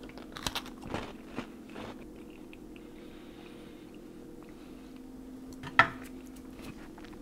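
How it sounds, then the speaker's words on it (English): Crunchy bites and chewing of a buttery MRE sugar cookie, several sharp close-up crunches early on, then quieter chewing and one loud crisp crunch near the end, with a low steady hum underneath. "very crunchy, very buttery. Yeah, it's just a sugar cookie."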